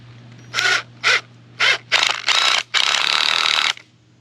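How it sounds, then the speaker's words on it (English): Screws driven into wooden tree protector blocks with a power driver: a series of sharp, noisy bursts close by, three short ones, then longer runs ending in one sustained whir, over a faint steady hum. "these are my tree protector blocks. And I'm just going to take some screws here and put them in"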